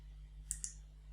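Two quick mouse clicks in close succession, a crisp near double click over a steady low electrical hum while working in circuit design software for an Arduino LCD keypad shield.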